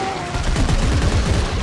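A small fast-firing weapon in Dead Space 3 rattles out rapid bursts in quick rhythmic pulses, loud and close. A faint tone lingers at the start.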